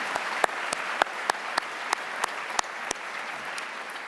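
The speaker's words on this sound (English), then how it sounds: "So please join me in thanking them with a round of applause." An audience applauds alumni volunteers at Caltech's 81st Annual Alumni Seminar Day keynote, a steady wash of clapping with a few sharp, louder individual claps standing out at irregular intervals throughout.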